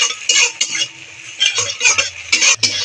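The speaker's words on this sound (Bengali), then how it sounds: "এরকম করে ঘেটে ঘেটে ডিমটা ভেজে দেবো।" An egg is stirred and scrambled as it fries in oil in a wok, with repeated scraping and clinking of a utensil over a steady sizzle, close and loud, no talking.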